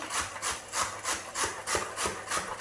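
Sandwich ingredients rubbed over a kitchen grater in a steady rhythm of about eight rasping strokes, close and fairly quiet, no talking.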